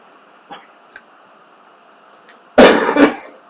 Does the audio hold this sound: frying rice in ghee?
no